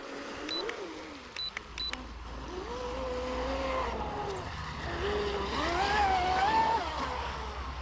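A small radio-controlled hydroplane boat runs across the water, its motor whining steadily with rising and falling pitch as it turns, at moderate distance through outdoor background noise.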